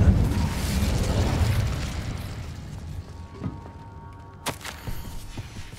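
An Incendio fire spell cast in Hogwarts Legacy: a loud, rushing burst of flame roars up and gradually dies away, followed by a few scattered soft thuds and clicks.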